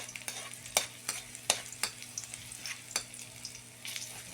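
Garlic frying in a pan, a steady close sizzle broken by a series of sharp spatula scrapes and taps at an uneven rhythm, no talk.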